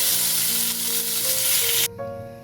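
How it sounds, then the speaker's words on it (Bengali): Papaya pieces frying in hot oil, a loud steady close sizzle with a constant bright hiss that cuts off sharply near the end. "পেঁপেটা ভাজতে ভাজতে একটা লাইট ব্রাউন কালার চলে এলে তুলে রাখবো।"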